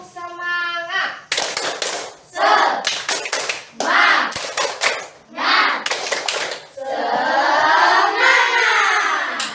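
Children in a classroom lesson perform a rhythmic clapping chant, with bursts of patterned hand claps alternating with their chanted voices, followed by a sustained group vocal at the end.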